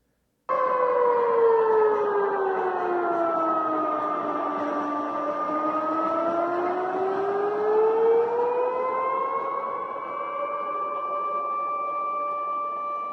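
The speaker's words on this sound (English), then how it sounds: "this is Russia's annual nationwide emergency alert test" A Russian civil defense siren sounding in a nationwide emergency alert test, a long continuous wail that sweeps down and back up in pitch, loud and steady for over twelve seconds.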